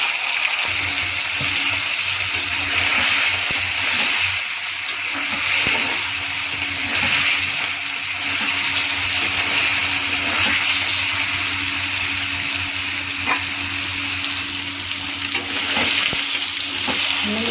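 Paneer frying in hot oil in a wok, with a loud, continuous crackling sizzle that holds steady throughout.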